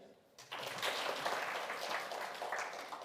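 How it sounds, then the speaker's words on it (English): Conference audience breaking into a round of clapping that starts abruptly after a brief quiet moment, then continues as a dense, steady patter at moderate volume in an indoor hall. "can I get a clap if you can hear me?"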